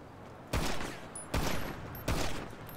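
Gunfire in the video game Return of Reckoning, three heavy blasts each fading into a rumbling tail, spaced under a second apart, loud and close.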